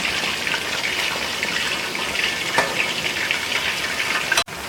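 Marinated chicken dabu pieces frying in hot oil give a steady, dense sizzle close up, with a brief clink near the end.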